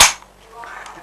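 A firearm is fired once, a sharp loud crack at the very start that decays into a quiet room tone with faint background noise.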